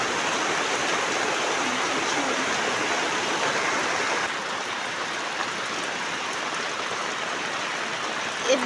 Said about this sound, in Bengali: এই যে পুরো জল, বৃষ্টি হয়ে যাচ্ছে।